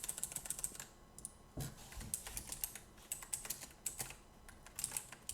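Quick, uneven clatter of keys on a computer keyboard during coding, close and fairly quiet, with short pauses between bursts and no talking.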